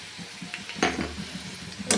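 Potatoes with ginger paste, cumin, chili and turmeric being stirred and sautéed in a pan, giving a low sizzle with scattered scrapes and a couple of sharper knocks of the spoon against the pan.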